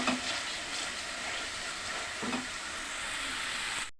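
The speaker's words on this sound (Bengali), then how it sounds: "এখানে আমি আরও বেশ মশলাটাকে সুন্দর করে কষিয়ে নিচ্ছি, যাতে একদম মশলাটা ভাজা ভাজা হয়ে যায়।" Spice paste fries in oil in a pan for an egg and potato curry, making a continuous close hiss of sizzling with a couple of faint scraping stirs.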